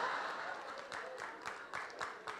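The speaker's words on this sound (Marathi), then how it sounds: "आता बघा टाळे कशी वाजली" Audience applause at a stand-up comedy show, a fairly faint, moderate burst of clapping from the crowd with uneven peaks, with some talk mixed in.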